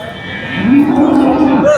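A buffalo at the Poigai cattle market in Vellore district gives one loud, close, drawn-out moo with a low, steady tone that lasts about a second against faint market bustle.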